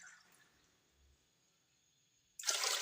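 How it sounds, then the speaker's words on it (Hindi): Water pours steadily into a bowl of rice being readied for cooking, a loud rushing splash that starts abruptly near the end after a long quiet stretch. "2 कटोरे में पानी पैंदी पिया"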